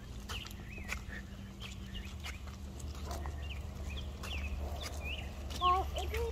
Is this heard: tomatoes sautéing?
no